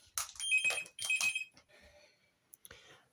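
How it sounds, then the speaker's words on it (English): A telephone rings in short bursts, two shrill rings close together, then fades into quieter room noise with a couple of faint clicks. "Oh, that'll be the phone."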